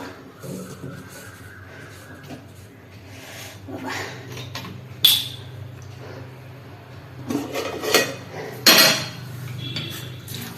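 A cooking pot clanks and scrapes as water is added to the previous night's cooked rice. Irregular metallic knocks and a rushing splash swell in bursts, loudest toward the end, with no talk.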